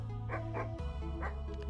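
A dog in the horror video game Something In The Well gives several short, soft barks and yips in an uneven rhythm over a steady game background hum.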